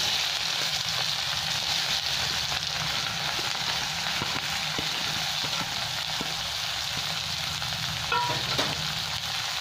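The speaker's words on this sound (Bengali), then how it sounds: "পেঁয়াজটা একটু লাল লাল করে ভেজে নেব।" Two chopped onions frying in hot oil with spices for a Bengali kata chorchori, a steady dense sizzle with occasional stirring scrapes, close and continuous.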